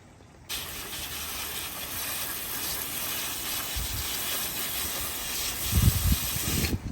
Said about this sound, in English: And I'll go ahead and water these through completely.